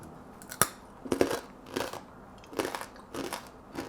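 Loud, close crunching as crisp air-fried pasta is bitten and chewed, several sharp crackly bites spaced about half a second apart.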